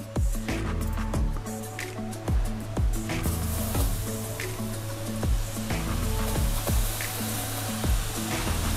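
Seaweed onion sticks frying in hot cooking oil, giving a steady close sizzle and bubbling with soft wet crackles throughout, alongside a repeating tonal background pattern.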